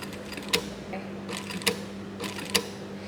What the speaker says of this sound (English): If I need to do a few more stitches, it just is the buttons on the side here.